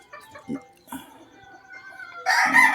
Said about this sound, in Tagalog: Ito yung isang Boston Roundhead natin mga guys.